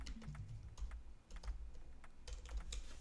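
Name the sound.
typing a name on a computer keyboard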